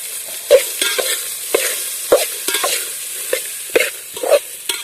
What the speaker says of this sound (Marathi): तेलामध्ये थोडा वेळ तळून झाल्यानंतर लगेच त्यामध्ये दाणे टाकायचे आहेत